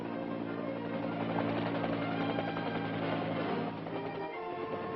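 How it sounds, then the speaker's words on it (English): An OH-13 Sioux light reconnaissance and observation helicopter flying, its steady rotor and engine drone holding a constant pitch throughout, moderately loud with no talk. "The OH-13 Sioux, for example, agile, quick, lightly armed, an ideal reconnaissance and observation aircraft."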